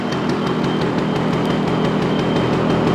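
A Vespa Stella scooter engine idles after an electric start, a loud, continuous, even drone with a rapid, regular pulse that holds steady throughout.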